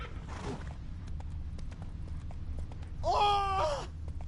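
Roach the horse galloping in the video game Witcher 3, a run of quick hoofbeats over a low rumbling game ambience, with a bright whinny-like cry rising near the end.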